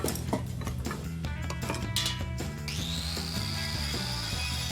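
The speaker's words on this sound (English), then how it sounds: "I'm just burnishing these." A power tool burnishes rusty industrial lights, whirring steadily with a rising high whine in the second half, layered over a busy rhythmic low-frequency background.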